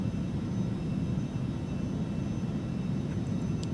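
FA-50 jet aircraft in flight while descending, heard as a steady, loud, low engine roar that drones on without a break, with no talk over it.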